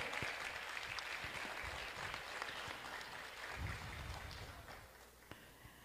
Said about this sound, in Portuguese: receba uma salva de palmas de todos